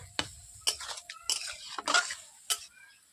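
Mixed vegetables of bottle gourd, carrot, beans and potato stirred with sugar in a pan, several distinct spatula scrapes at an uneven rhythm over a faint sizzle.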